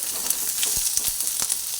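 Grated ginger and spices frying in a pan, a soft continuous sizzle with a few brief low thumps of stirring, close by and moderately quiet.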